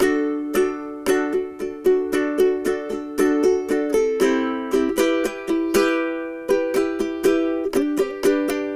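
A ukulele is strummed in a steady rhythm playing a song, bright chords changing every bar or so and ending on G, played close and clear with no voices.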